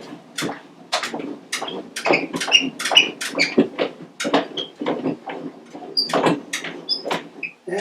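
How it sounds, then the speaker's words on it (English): Hand crank winding an antique gramophone, a repeated series of ratcheting, squeaky scraping strokes in an uneven rhythm, close and fairly loud with no talk. "crank it up pretty good."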